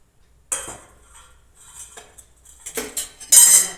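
Grains are tipped into a pot of cooked dal, making metallic clinks and scrapes of a spoon against the pot, with a faint pattering rustle and a louder burst of clatter at the end, close by.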